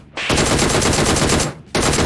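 Rapid automatic gunfire from a shooting video game, loud and close, two sustained bursts of fast rattling shots separated by a brief pause.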